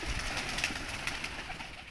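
Flock of roughly forty to fifty Malwai pigeons from Punjab cooing steadily, a dense, continuous murmur of overlapping soft coos at close range with no talk.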